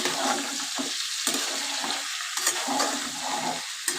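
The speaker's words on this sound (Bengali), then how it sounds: "এবার আমি জল ঢেলে দেবো দেখো জল দিয়ে দিলাম" Water is poured into a pan of cauliflower and potato curry, making a loud, close, continuous splashing gush with bubbling and sizzling that lasts the full four seconds.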